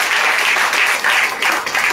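Loud, dense applause from an audience at a gathering, honouring a teacher; a steady wash of many hands clapping together for about two seconds with no break.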